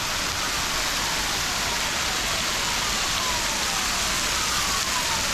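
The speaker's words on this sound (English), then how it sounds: "Get right beneath the waterfall." Waterfall at Rock Island State Park, Tennessee, roaring as a steady, loud, broadband wash of falling water heard up close, continuous without a break and with no talking.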